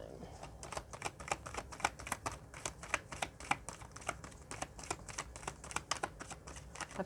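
Tarot cards are shuffled roughly up close, a fast, even run of crisp slapping clicks that continues without pause.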